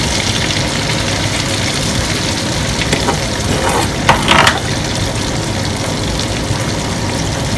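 Spiced ripe plantain slices fry in a pan with a steady, dense sizzle that fills the whole clip, plus a brief louder crackle burst near the middle; no voices.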